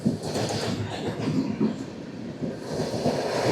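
The 12333 Up Vibhuti Express, an Indian passenger train on its first run with LHB coaches, rolls past with a steady rumbling wash of wheels on rail and faint rhythmic clatter, moderately loud and continuous.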